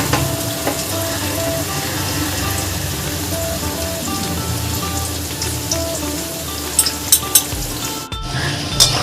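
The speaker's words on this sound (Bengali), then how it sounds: "পেঁয়াজটা লাল করে ভাজা হয়ে গেছে এর মধ্যে আমি এবার ম্যারিনেট করা মাটনটা দিয়ে দেব" Marinated mutton fries with browned onions in a pan, giving a dense, steady sizzle, close and loud, with a few utensil clinks toward the end and a brief dropout.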